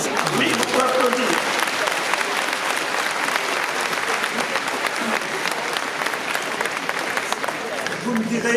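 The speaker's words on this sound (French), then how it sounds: "Oui, on peut applaudir." A large crowd at a New Year's civic address in Belfort, France, breaks into sustained, loud, dense applause that holds steady throughout, with a few faint voices under it.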